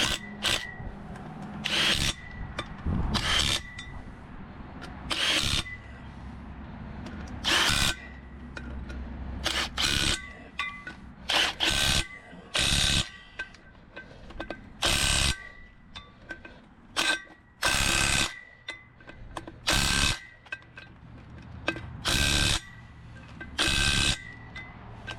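An impact power tool runs lug nuts down onto the wheel studs of a 2000 Ford F350 in repeated loud bursts separated by short pauses, with no talking.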